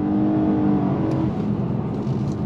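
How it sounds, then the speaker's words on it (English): A 2023 Nissan Maxima accelerates hard from a dead stop in sport mode, its engine rising in a close, steady rev and then easing off as the whir settles. "From a dead stop in sport mode, on throttle, here we go."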